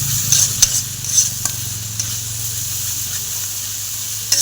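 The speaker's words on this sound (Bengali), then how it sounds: "আদা রসুনটা ভালো করে ভেজে নিয়েছি।" Ginger-garlic paste sizzling in a pan while a spoon stirs it, a steady hiss with a few sharp scrapes near the start and one at the end, close and alone.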